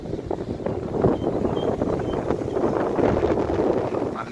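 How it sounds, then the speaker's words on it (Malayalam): Strong wind at a Nelliyampathy scenic viewpoint on a hillside, rushing and buffeting against the microphone in loud uneven gusts, with a continuous rumbling roar and no speech. "നല്ല കാറ്റുണ്ട്."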